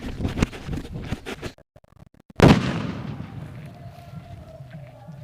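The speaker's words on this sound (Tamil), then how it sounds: "தேங்காய் கொண்டு வந்து வெடிக்க போகிறோம்" Coconut bomb firecracker, a village nattu vedi, going off in one sharp, loud blast after a stretch of background noise and a short near-silent gap, with a long decaying rumble and faint ambient sound trailing after.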